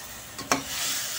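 Pork with tomato sautéing in a pan for Bicol express, a short burst of close, steady sizzling with a single sharp stir or scrape in the middle, no voices.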